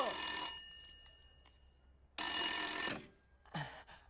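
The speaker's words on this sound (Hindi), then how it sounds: "हेलो बिट्टो, तेरा फोन।" A telephone bell rings in two loud bursts separated by a pause, followed by a shorter fainter ring, with no talking over it.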